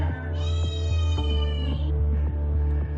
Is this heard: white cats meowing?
yes